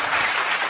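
A short burst of audience applause at a heated religious debate between a pastor and Bang Zuma, a dense wash of clapping lasting under a second.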